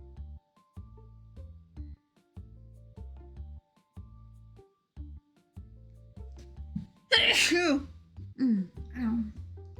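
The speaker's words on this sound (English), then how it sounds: "Heck of a sneeze." A single sharp sneeze bursts out loud and close over a backdrop of looping game music in a card shop simulator, followed by a short breathy tail.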